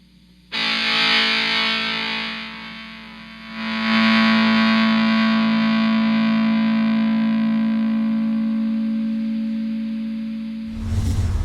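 Distorted electric guitar running through a white Rowin noise gate pedal: two loud sustained chords ring out and fade, each cutting off cleanly into quiet, with a short burst of noise at the very end.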